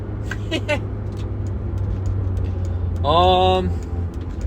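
A car engine drones steadily, then gives a brief, rising-and-falling rev blip as the driver downshifts and tries to match revs. Voices are heard faintly earlier.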